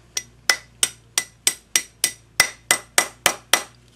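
Hammer strikes on a metal twin shank adjustable ring ring out in a steady run of eleven sharp, bright taps about a third of a second apart, close and loud, with no speech.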